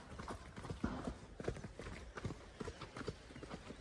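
A mare's hooves clip-clopping on the ground in a busy, uneven rhythm of many quick strikes, fairly faint and close, with no one talking.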